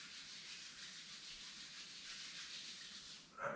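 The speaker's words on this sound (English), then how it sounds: "Rub your palms." Palms rub together briskly and close up during a yoga session, making a steady, soft hiss of skin friction that runs continuously for a few seconds before stopping, with no talking.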